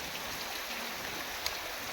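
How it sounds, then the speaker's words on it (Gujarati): Rain falls steadily with a soft, even hiss and a faint crackle of scattered drops, fairly quiet and unbroken, with one tiny brief tick standing out. "આ વરસાદ ચાલુ છે અને વરસાદમાં ચાલુ છે, આવો વરસાદ પડે છે"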